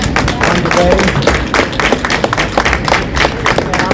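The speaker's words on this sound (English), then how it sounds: "So I want to give a round of applause to Carolyn for leading this effort." A crowd gives a round of applause at a gathering in a restaurant, dense overlapping clapping that stays loud and steady throughout, with some voices mixed in.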